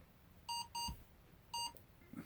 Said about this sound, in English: I set the alarm just in case